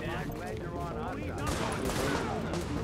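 Gunfire from The Division, a third-person shooter video game, crackles in dense bursts mixed with other game noise while people talk over it.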